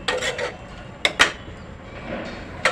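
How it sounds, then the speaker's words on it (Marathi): A spoon clinks and scrapes against a pan while stirring cauliflower, pea and potato bhaji, a few sharp metallic knocks in two quick clusters with soft scraping between, fairly close. "भाजी मिक्स करते"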